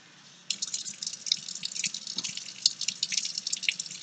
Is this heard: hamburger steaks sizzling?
no